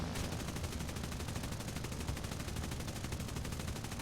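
A top turret machine gun firing in War Thunder's aerial combat against a PBY-5A Catalina: a loud, continuous rapid-fire burst of rattling shots throughout, dense and unbroken with engine drone underneath.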